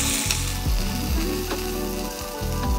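Lamb pieces, golden on one side and just flipped, sizzle loudly and steadily in a hot frying pan, with a few soft scraping stirs and taps of a utensil and no voices.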